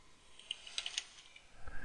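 Someone types briefly on a computer keyboard: a few quiet, scattered key clicks with a short cluster in the middle, then light rustling, with no talking.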